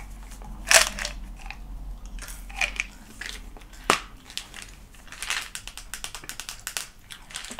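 Close, crisp wet clicks and crunches of Extra white bubble mint gum being chewed, coming in irregular bursts with a sharp snap now and then. The room is otherwise quiet and no one speaks.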